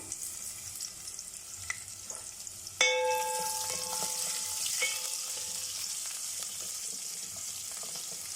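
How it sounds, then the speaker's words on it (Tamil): Fenugreek, fennel, crushed garlic and shallots hit hot oil for a spicy kingfish curry, bursting into a sudden loud sizzle with a few metallic clinks of a spoon against the pan, then settling into steady frying. "வெந்தயம், சோம்பு, பூண்டு, வெங்காயம் இந்த அனியனில் வதங்கட்டும்."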